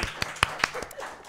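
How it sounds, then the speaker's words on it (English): A small audience claps for a band at a reunion concert show, giving a brief run of sparse, separate handclaps, a few sharp and close, fading out within about a second. "would you join me and give these folks all a big round of applause?"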